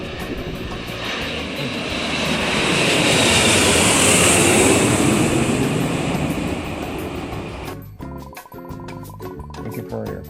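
Steady loud roar of an airplane cabin during high turbulence, swelling and rumbling for several seconds, then giving way to a sharper, clattering section near the end; no one speaks.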